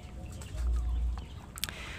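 Muscovy ducks on a farm give soft low calls and clucking sounds over steady background noise, with a brief sharper call near the end.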